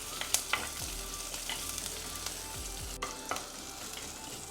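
Shallots, garlic, green chili and curry leaves fry for rasam, crackling and sizzling in hot oil as a spoon stirs them, with scattered sharp pops and a few scraping strokes; no voices.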